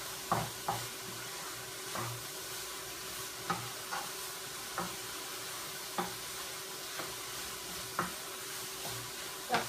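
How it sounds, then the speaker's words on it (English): Food stirred in a sizzling pan, a utensil tapping and scraping the pan at a steady rhythm of roughly one knock per second over continuous frying hiss, close by with no talking. "Stir this around a little."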